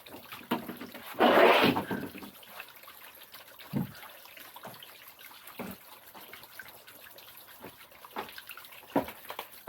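Water gushes from a pulled jacuzzi pump pipe in a short, loud burst, then trickles and drips sparsely during a quiet stretch afterward.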